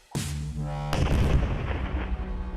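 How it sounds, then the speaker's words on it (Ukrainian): A sudden deep landmine explosion booms, followed by a second heavier blast and a long rumbling roar that slowly fades. "Нищівний вибух."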